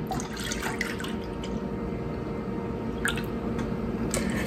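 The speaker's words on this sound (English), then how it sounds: "Now we want a medium saucepan and we're going to add in our heavy cream," Heavy cream and milk pour into a medium saucepan for homemade eggnog, a steady liquid trickle and splash with a few drips, close and continuous throughout.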